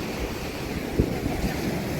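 Sea waves wash against the rocky shore of a seaside beach park in Visakhapatnam. The roar is steady and close, mixed with wind buffeting the microphone and one soft thump partway through, and there is no talk.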